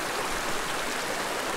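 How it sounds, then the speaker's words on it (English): A clear brook trout creek flows in a steady, close rushing wash of water, even and unbroken, with no voices. "This is a beautiful creek, very clear"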